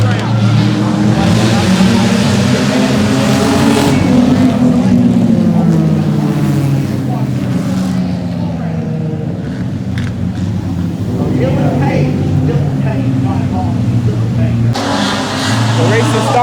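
Race cars roar at the start of a race on a track, loud engine drones rising and shifting pitch as they pass, with people talking and exclaiming over the din throughout.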